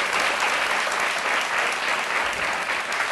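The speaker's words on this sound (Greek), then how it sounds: "Ένα χειροκρότημα να πάρει θάρρος" An audience claps steadily and loudly throughout, a dense wash of applause from a crowd at a comedy stage performance, with no speech over it.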